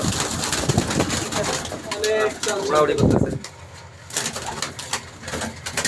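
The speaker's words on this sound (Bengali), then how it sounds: "এটা তাজবিরওয়ালা কবুতর লাল চোখের" Pigeons coo in a loft housing imported Pakistani Teddy pigeons, including red-eyed birds, with soft, close murmuring calls over a busy background and voices talking nearby.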